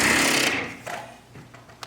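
A power tool drives screws into drywall, with a loud continuous whir that fades after half a second, followed by quieter rubbing and handling noises.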